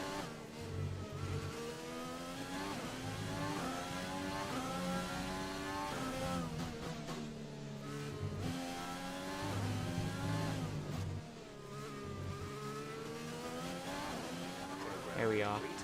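A Formula 1 car in the F1 2020 racing game howls continuously, its engine pitch climbing and dropping through gear changes as it accelerates, loud and steady across the whole stretch.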